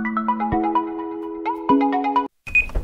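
A game alarm sounds when the time runs out in the Roblox game Build a Boat: a bright, repeating ringtone-like electronic melody of stacked beeping tones, loud and continuous for about two seconds, then a short break and a noisier tail.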